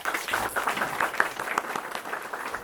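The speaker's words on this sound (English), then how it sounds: "please big round of applause for our chief guest" An audience at a college physics society inauguration claps for the chief guest, a brisk, even patter of many hands filling the room without pause.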